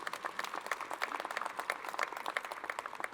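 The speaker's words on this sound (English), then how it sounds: "So give all of you yourselves a big round of applause for all of that." An indoor audience at a small-business gathering in Savannah, Georgia claps together in a brief, fairly faint round of applause, the dense patter steady without any talk over it.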